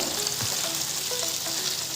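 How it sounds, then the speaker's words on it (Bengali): Fish frying in a pan until crisp and reddish, giving a steady, close hiss of sizzling oil with a few faint pops and stirring clicks, no voices. "তো চলো মাছটা ভালো করে ফ্রাই করে নিই"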